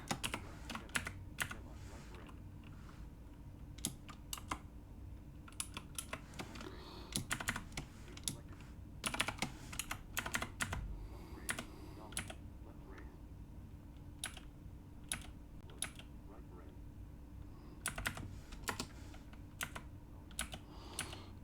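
Quiet typing of C# code on a computer keyboard, irregular clusters of light key clicks over a low room hum, with no talking.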